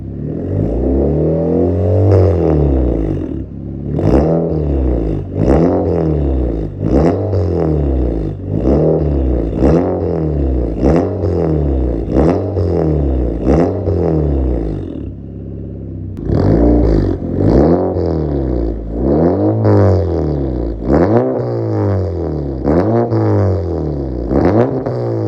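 A turbocharged Honda Civic with an R18 engine and a loud exhaust revs hard over and over, each rise and fall of the engine following closely on the last, with a brief pause partway through before the steady revving resumes.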